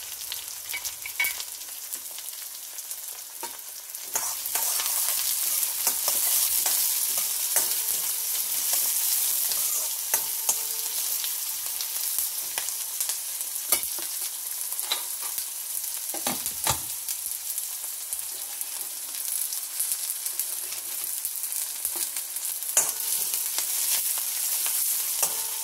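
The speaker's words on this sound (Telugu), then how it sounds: "వేగనిద్దాం ఫ్రెండ్స్ కొద్దిసేపు." Green chillies, cumin and mustard seeds fry in hot oil for a kakarkai curry, giving a steady close sizzle that grows louder after a few seconds, broken by scattered pops and spoon clinks.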